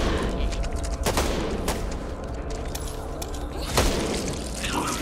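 Rapid bursts of gunfire from a shooter video game, with loud sharp volleys at about 1 and 4 seconds over a dense, continuous backdrop of game noise and chatter.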